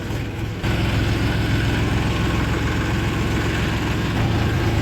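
A tractor engine pulls a trolley loaded with sugarcane, its loud low throbbing drone running steadily and close by throughout, with no speech.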